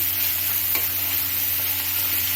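Turmeric powder frying in a pan while pudina rice is being cooked, giving a steady close sizzle with a faint stir or scrape partway through, no voices.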